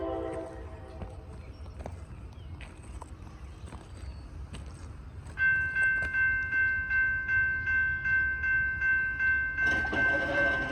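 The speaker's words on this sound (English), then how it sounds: "Gonna have a train coming from that direction." A train approaches on the rail line near Hamilton, with a low rumble giving way to rhythmic clacking of wheels over rail joints and a sustained tonal ring, fairly faint and distant.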